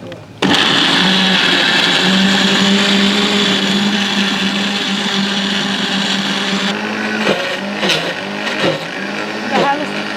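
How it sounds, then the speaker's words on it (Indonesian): A blender runs loud and steady, grinding spice paste for Indonesian ayam bumbu RW in a home kitchen, its motor whine continuous for about ten seconds with a few bumps near the end. "Kita blender ini."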